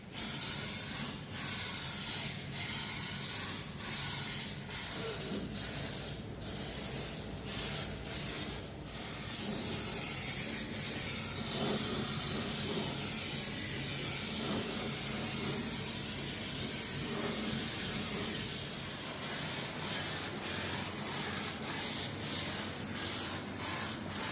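Waxoyl rust protection sprayed onto the underbody of a Toyota FJ Cruiser, a steady close hiss that runs the whole time with small breaks and sputters, alone with no talk.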